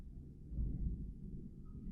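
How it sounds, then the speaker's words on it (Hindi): Low thunder rumbles from distant clouds during outdoor weather, a soft sustained roll swelling and lingering across a couple of seconds with no talking. "बहुत अच्छा मौसम है, बादल गरज रहे हैं।"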